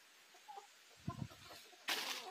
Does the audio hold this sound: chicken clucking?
yes